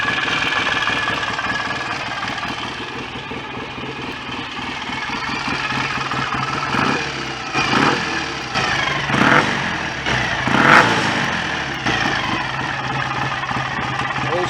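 A freshly rebuilt BSA A65 twin-cylinder motorcycle engine idles steadily and loudly close by, with a rhythmic mechanical beat and a few brief rises in intensity.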